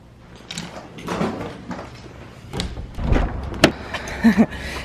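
A door handled as someone heads out, with a series of clunks and knocks, a latch click, and a sharp rattle near the end, recorded close up amid household movement.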